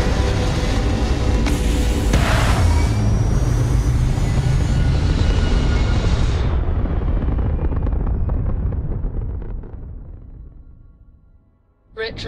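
A spaceship lifts off in Starfield with a loud, continuous roaring rumble and thrust hiss that holds for about nine seconds, then fades away.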